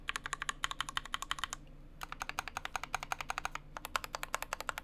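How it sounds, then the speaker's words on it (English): A mechanical keyboard with Gateron linear switches on a universal plate is typed on in fast, even bursts of crisp, close clacks, with short pauses between runs. "this is a universal plate with Gateron linears"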